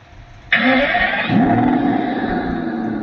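A toy car switched on blares a loud recorded engine start and revving roar that swells abruptly and holds steadily to the end, with no talking over it.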